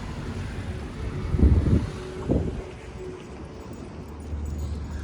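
A car rolls past on a downtown Salt Lake City street, a low whooshing swell that rises and fades over a few seconds amid steady wind and outdoor noise.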